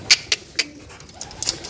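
Domestic pigeons let out of their coop at a small home mini zoo give a few short, separate calls spaced out over a quiet background, fairly close, with no talking.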